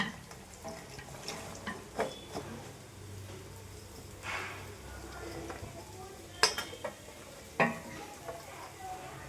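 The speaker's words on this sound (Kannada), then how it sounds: "ಈಗ ತರಕಾರಿ ಹಾಕ್ತೀನಪ್ಪ. ನೋಡಿ ಇಷ್ಟು ತರಕಾರಿ ಹಾಕ್ತಾಯಿದ್ದೀನಿ" Vegetables tipped into a sizzling tempering for tender bamboo shoot sambar, with a soft steady sizzle beneath stirring and a few sharp clinks of a utensil against the pan.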